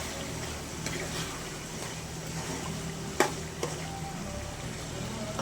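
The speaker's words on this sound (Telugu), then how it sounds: "కొద్దిగంత సాల్ట్ వేసుకుందాం ఎందుకంటే తొందరగా మగ్గిపోతాయి టమాటాలు కలుపుకుందాం" Tomatoes cooking with salt for an old-style tomato pickle give a steady, close sizzle with soft stirring scrapes and a couple of light knocks, and a voice may be faintly present beneath.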